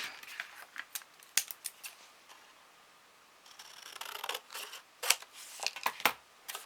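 Scissors make quiet, close snips while cutting card paper for a handmade card. The crisp cuts come in irregular bursts with short pauses between them, and no one speaks.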